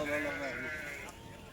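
Sheep bleating at the Kırıkkale livestock market in Turkey: one drawn-out, wavering bleat heard close, fading quickly, with market chatter faintly behind.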